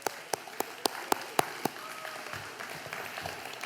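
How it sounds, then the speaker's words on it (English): Graduation-ceremony audience at a 2023 commencement applauding the graduates: a few sharp, distinct claps ring out near the start, then a soft, diffuse patter of hands carries on faintly in a large hall. "Big round of applause."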